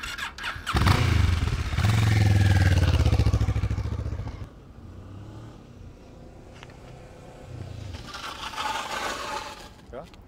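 A motorcycle makes a hard emergency stop with both front and rear brakes during a riding coaching session: loud engine and tyre noise builds for a few seconds, then drops away as the bike slows, with a rider's voice heard later.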